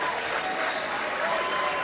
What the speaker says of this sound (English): the crowd giving him a round of applause here